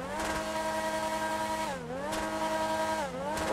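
A Koenigsegg Jesko engine holds a loud, buzzing high-rev drone, dipping briefly twice as the throttle eases before climbing straight back up.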